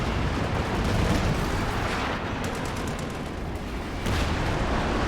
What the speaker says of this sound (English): Panzerwerfer barrage is huge on the south, on the east, west even